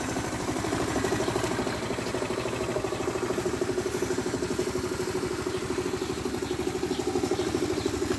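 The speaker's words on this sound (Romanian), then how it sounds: "Dacă-i pun ăsta la filtru, ăsta nici nu se mai aude deloc motorul." An Aprilia Scarabeo 100cc scooter engine idles steadily up close, with a fast, even putter and mechanical clatter that holds unchanged throughout.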